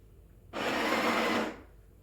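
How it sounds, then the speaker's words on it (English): A Breville Barista Express BES870 espresso machine grinding coffee beans with its built-in grinder, a steady loud burst of about one second that stops abruptly, heard alone. "if you want to manually grind, you just hold the button and it'll grind for as long as you hold"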